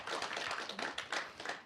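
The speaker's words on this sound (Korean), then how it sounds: "저희가 박수로 환영하겠습니다" A church congregation claps together to welcome a visiting guest, a dense, steady patter of many hands filling the room for a couple of seconds.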